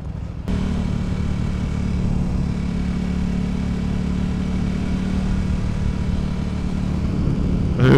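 A motorcycle on a group ride of respect holds a steady, loud engine roar close by for several seconds, with a slight rise near the end.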